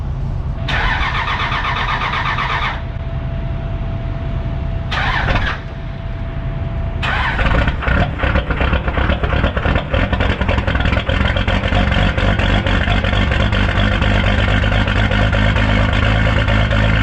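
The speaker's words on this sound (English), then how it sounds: "I haven't done a cold start in a while." A truck engine cold-starts on a 36-degree morning after sitting overnight, the starter cranking in several bursts before it catches and settles into a loud, steady idle.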